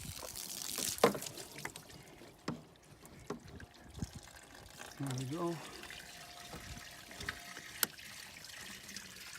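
Water from a hose runs into the radiator of a 2003 Cadillac CTS, a faint steady trickle and pour with occasional splashes and clanks, and someone speaks briefly over it.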